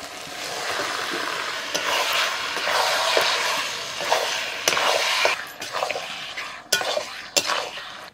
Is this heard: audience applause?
no